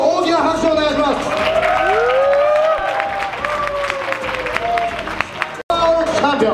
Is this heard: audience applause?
yes